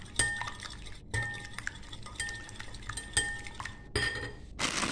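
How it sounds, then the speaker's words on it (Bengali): Eggs with a pinch of salt being beaten for batter in a bowl, fork or whisk clinking rhythmically against the dish in quick repeated strokes with brief pauses, close and clear with no talk. "এটা এবার আমি সুন্দর করে ফাটিয়ে নেব যাতে ডিমের গন্ধটা না থাকে।"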